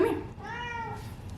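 A pet cat named Dabby lets out a single clear, drawn meow close by and fairly loud, preceded by a brief rustle, with no talking.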